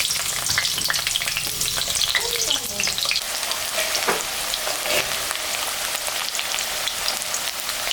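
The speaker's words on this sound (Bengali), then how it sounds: "আলুটা এখন আমি ভাজে নেব।" Potatoes frying in hot oil in a wok (kadai), a steady close sizzle with some stirring scrapes, continuous and fairly loud with no talking.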